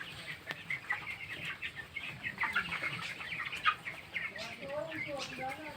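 Broiler chickens, nineteen days old, clucking and peeping steadily inside a poultry farm shed, a busy chorus of fairly close birds with soft scattered calls throughout.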